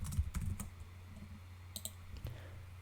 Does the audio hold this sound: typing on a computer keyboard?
yes